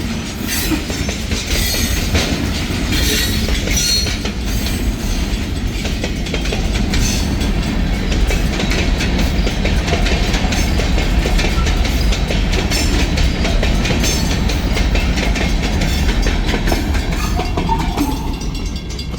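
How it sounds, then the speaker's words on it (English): A long, heavy freight train rolls past close by, a steady loud rumble of wheels clicking over rail joints with occasional squeals, continuous throughout. "That is a long train."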